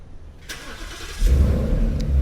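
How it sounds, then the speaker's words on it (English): A Ford car engine, started remotely by key fob, cranks and catches, settling into a low, steady idle after a short click and a brief whir. "you can hear the car start"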